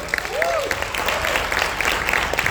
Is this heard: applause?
yes